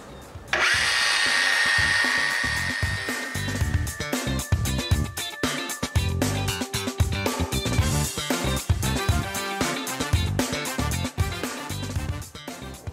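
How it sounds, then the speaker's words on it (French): A Bosch 18-volt biturbo power saw cuts through material in a workshop, a loud, steady motor whine starting abruptly and carrying on with fluctuating load and rattling through the cut. "on va utiliser la Bosch en 18 volts, c'est une biturbo"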